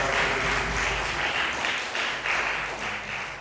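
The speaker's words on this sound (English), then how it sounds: "Please give them a round of applause" Recital audience at a University of Michigan music school senior recital applauding steadily, a dense, fairly loud wash of clapping that eases slightly toward the end.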